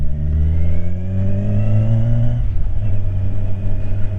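A Kawasaki Ninja 1000 SX motorcycle, 2020–2021 model, runs steadily while being ridden. Its loud, close engine drone holds one pitch, then shifts and roughens midway, as if the revs change, with no voices.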